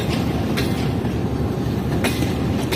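A passenger train shunts at Quetta railway station, a steady loud rumble of rolling wheels and cars with a couple of sharp clanks from the couplings or track joints.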